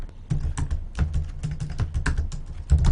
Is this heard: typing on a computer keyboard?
yes